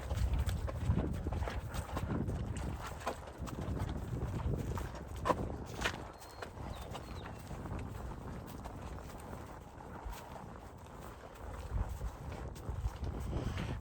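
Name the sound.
horse walking through mud and sand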